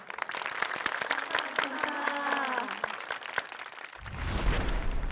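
Applause for children after a dance performance on a Thai television show, a loud crowd clapping steadily for about four seconds, then giving way to a lower rumbling crowd noise at the end.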